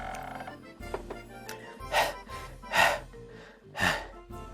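A person imitates panting with their voice, producing a series of breathy gasps in an irregular rhythm, about four heavier pulses, close and moderately loud.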